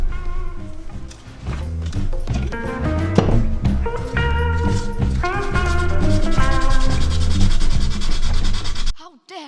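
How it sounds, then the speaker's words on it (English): Sandpaper rubbing against a metal bottle cap to strip its paint, a steady scratchy abrasion lasting several seconds beneath loud background music, then cutting off abruptly near the end. "I'm going to go in with a little bit of sandpaper, and I'm going to try and sand this off."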